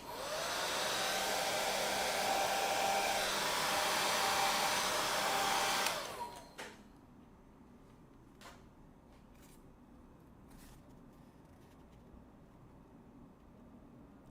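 A hair dryer blows steadily on wet oil paint for about six seconds, a loud close whoosh that cuts off abruptly, followed by quiet room tone with a few faint clicks and taps.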